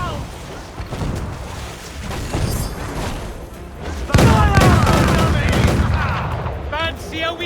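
Naval battle in Assassin's Creed 4 Black Flag, with repeated cannon blasts and rattling gunfire booming over sea noise, growing denser and louder midway, while voices shout orders.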